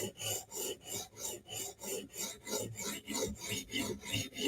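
A Spyderco knife is drawn across a sharpening stone on a Hapstone RS guided sharpener, the stone rasping against the burr in steady back-and-forth strokes, about two per second, close and clear.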